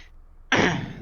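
A single sharp throat-clearing cough bursts in after a quiet moment, close and loud, then fades quickly.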